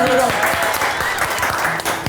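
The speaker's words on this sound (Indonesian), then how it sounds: "Kita kasih tepuk tangan dulu dong." A studio audience claps for guests arriving on an Indonesian podcast set, a short burst of loud, close applause with individual claps standing out while voices talk over it.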